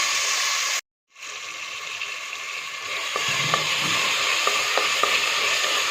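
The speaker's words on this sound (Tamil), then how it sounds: "தக்காளி போட்டு நல்லா வதக்கணும்" Tomatoes sauté in a pan for hotel-style chicken kurma with a steady close sizzle. The sizzle cuts out briefly, then returns with light clicks and taps from stirring.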